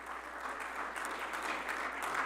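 An audience applauds a speaker, a dense, steady patter of many hands clapping at moderate volume, sustained without letup and with no voice over it.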